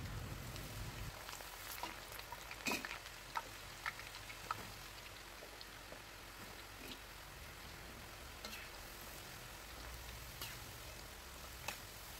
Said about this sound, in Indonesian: Setelah minyak panas, masukkan tadi irisan dari ubi